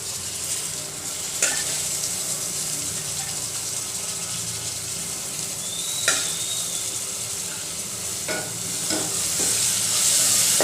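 Vajadi masala stirs and fries in a pan, giving a steady hiss of sizzling with a few sharp scrapes and clinks of a spoon against the metal at intervals.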